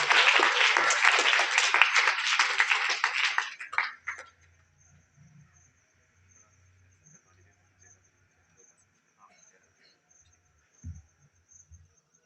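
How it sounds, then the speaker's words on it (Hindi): A school seminar audience claps briskly and loudly for about four seconds, then the applause cuts off into near silence broken by faint hum and a few soft knocks. "तो कृपया जोरदार ताली से उनका उत्साहवर्धन करें"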